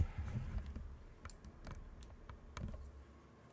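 A mechanical keyboard with HMX Taro Ball switches, a Neo60 Core board with a CF plate and GMK keycaps, typed on close up, giving soft, muted keystrokes in an uneven rhythm with no talking.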